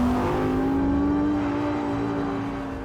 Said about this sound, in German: Der R8 hat natürlich einen brachialen Antritt und dazu noch diesen kernigen Sound